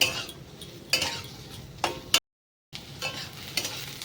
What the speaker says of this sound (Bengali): এবার এর ভেতরে দিয়ে দেবো ক্যাপসিকাম ভালো করে একটুখানি নেড়ে চেড়ে ভেজে নিতে হবে